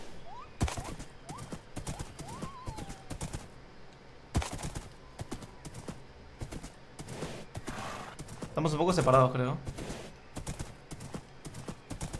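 Horses clip-clop on the ground in a survival video game, a run of distinct hoof thuds with a brief whinny and bursts of gunfire, under occasional talk.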